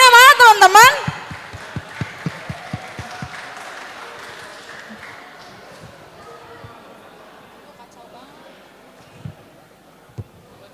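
A youth congregation at a joint Christmas service claps in a quick, rhythmic burst over a loud voice, then the claps fade to a few scattered ones in a quieter hall.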